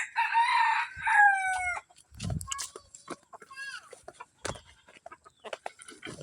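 A pure labuyo junglefowl rooster crows loudly and close by, a long harsh call at the start, followed by shorter clucks and chirps while a person speaks.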